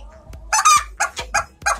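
A hen gives a quick series of close, sharp clucks, five or six loud bursts in an uneven rhythm, before starting to lay eggs.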